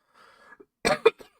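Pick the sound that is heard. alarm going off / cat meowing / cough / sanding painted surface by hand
cough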